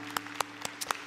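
A handful of scattered handclaps from a church congregation during a worship service, quiet and sparse, about five separate claps with no talking.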